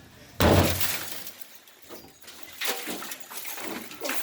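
A vehicle window is smashed out during a diesel race build, one loud sudden shatter followed by scattered tinkling glass fragments falling and settling for a few seconds.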